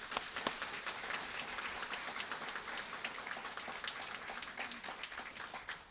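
Steady applause from an audience at a 2014 government honor awards ceremony, a dense, even patter of many hands clapping throughout, fairly faint and distant with no talk over it.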